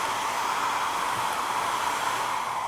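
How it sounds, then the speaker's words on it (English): A handheld blow dryer runs on a low setting with a steady, even airy hiss and motor whir, close and uninterrupted. "The best way to use a blow dryer, okay, even just to get started, is maybe put it on a lower setting."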